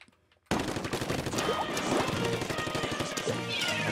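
Rapid-fire weapon in Splatoon multiplayer goes off in dense, continuous bursts after a short quiet lead-in, loud and steady with game music and effects layered underneath.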